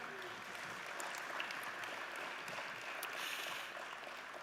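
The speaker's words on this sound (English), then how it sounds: "if we can get a huge round of applause for the guys putting on this night" Steady, dense applause from an audience at a South Australian training awards ceremony, sustained without a break for several seconds and heard from within the hall.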